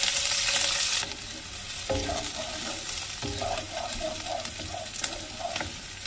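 Cut onion dropped into heated oil in a karahi pan for a lamb dish, with a steady, close sizzle, a loud hiss at the start, then quieter crackling and intermittent stirring scrapes.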